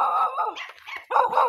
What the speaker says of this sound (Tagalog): Pinahol-tahol po tayo dito.